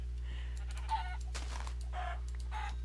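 Chickens cluck in the blocky sandbox game Minecraft, giving a few short, quiet clucks and squawks spread across a couple of seconds over a steady low background hum.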